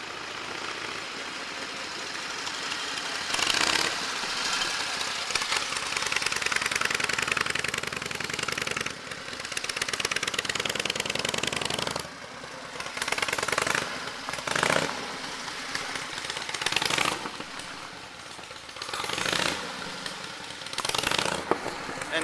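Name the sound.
antique Harley JDH two-cam motorcycle engine running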